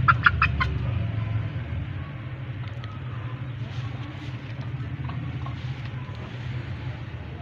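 A few quick clucks up front, then softer scattered chicken sounds over a constant low rumble of engine-like noise.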